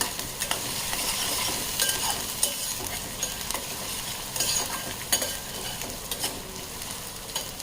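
Ginger-garlic paste fries in a pan with a dense, steady crackle, while scraping stirs and light clinks recur throughout at close range.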